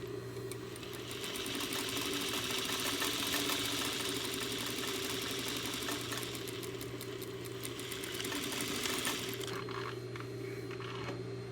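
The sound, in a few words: sewing machine sewing a seam in muslin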